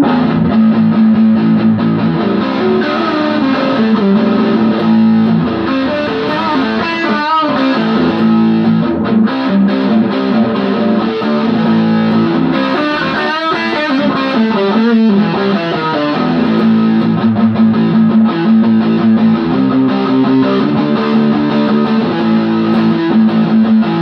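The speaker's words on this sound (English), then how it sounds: "this time I've got the distortion at 3 o'clock and the tone at 3 o'clock" Electric guitar played through a Joyo U.S. Dream distortion pedal with distortion and tone both near three o'clock, giving loud, saturated, sustained chords and riffs that ring continuously with no talking.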